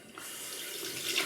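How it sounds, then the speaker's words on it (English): Hot water runs steadily from a tap into a sink during a morning face wash with a flannel, a continuous close splashing hiss with no talking. "first thing I'm doing is just washing my face with hot water and a flannel"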